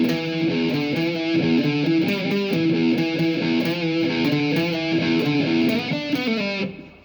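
An electric guitar plays the opening bars of a riff through distortion, a dense, continuous run of driven notes at a brisk pace that cuts off at the end.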